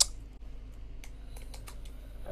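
Fingers type on a computer keyboard during a SuperCollider coding session, producing a run of light, irregular key clicks close by with no talking.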